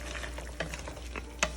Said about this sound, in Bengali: এখানে আমার চিকেন কোরমাটা একটু কষেছে, আরেকটু কষবে